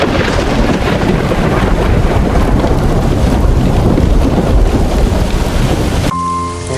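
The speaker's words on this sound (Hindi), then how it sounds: "अब रात का समय है, बड़ी बारिश हो रही है।" Heavy night rain pours in a dense, loud, steady roar with deep thunder rumbling underneath, ending abruptly near the close.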